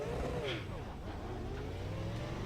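Race car engine in the iRacing video game, played on a motion platform, revving and shifting with rising and falling pitch sweeps, steady and fairly loud throughout.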